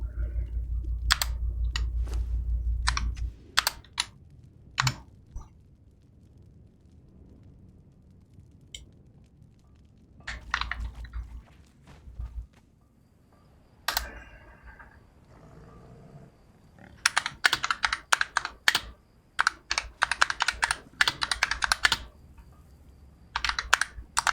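Computer keyboard typing comes in quick clattering clusters of keystrokes separated by pauses, fairly close and alone over a low background rumble.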